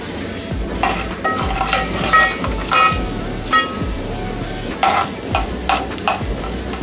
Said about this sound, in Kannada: ಎಣ್ಣೆ ಬಿಸಿಯಾಗಿದೆ, ಇದಕ್ಕೆ ಸ್ವಲ್ಪ ಸಾಸಿವೆ ಹಾಕೋತಾ ಇದ್ದೀನಿ.